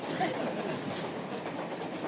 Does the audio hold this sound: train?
yes